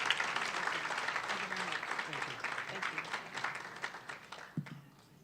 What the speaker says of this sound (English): please join me in a round of applause to Mrs. Letitia James